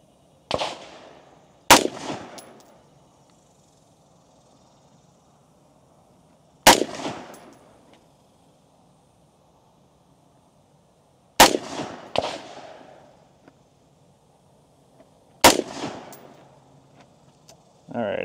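Rifle shots fired at a target, five sharp loud cracks spaced several seconds apart, each with a short ringing decay, over a faint low background hum.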